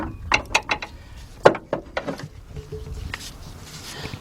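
Bolts being removed from a brake caliper on a 2001 Ford Windstar: a handful of sharp ratchet clicks and metallic taps near the start, then softer tool rattles and faint shuffling.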